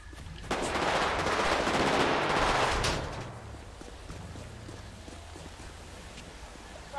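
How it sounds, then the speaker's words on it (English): Heavy gunshots fired on route 68, heard over a police radio, a dense burst of rapid shots for about two and a half seconds that then gives way to quieter static and faint crackle. "I got heavy shots fired, 260 route 68, heavy shots fired."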